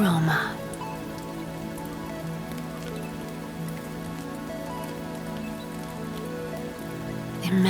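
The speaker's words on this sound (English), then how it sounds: "Picture the refreshing raindrops plopping onto the shiny little leaves at the top of the" Steady rain falls and patters on leaves, a dense even hiss that holds constant throughout, close and moderately loud with no talk.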